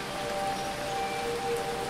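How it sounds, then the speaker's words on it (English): Steady rain pours down in the sci-fi video game Phoning Home, a dense, even hiss of falling drops with a faint tonal hum underneath, continuous and unbroken with no voices. "When the rain is pouring down, some units have all the luck."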